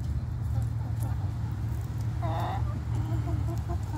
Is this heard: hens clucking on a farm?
yes